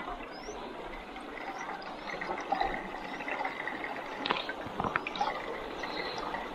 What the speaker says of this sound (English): Let's filter this water a bit.